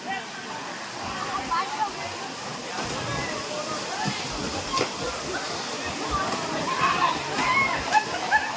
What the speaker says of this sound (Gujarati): મેન ધોધ અહીંયા છે આપણે અહીંથી બધો ધોધ આવે છે પાણીનો